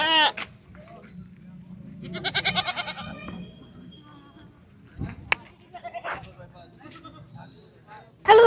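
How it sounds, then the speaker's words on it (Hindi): Goats bleat at a crowded goat market during Eid ul Adha, with several nearby wavering calls scattered among people talking. "बकरे ईद पर हम लोग आए हैं बकरा मंडी"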